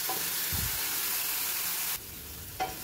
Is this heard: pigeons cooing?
no